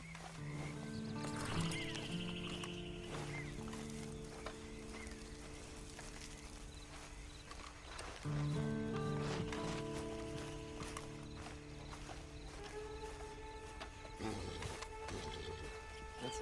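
In Red Dead Redemption 2 Online, a horse's hooves clop and it whinnies amid sustained game music and ambience, the animal sounds moderately loud and close throughout.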